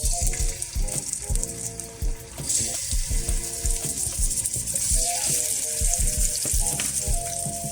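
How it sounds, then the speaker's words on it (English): Shrimp seasoned with all-purpose seasoning fry in hot oil, a loud continuous sizzle and crackle up close, with occasional clatter and stirring sounds and no talk. "Okay folks, we got our hot oil."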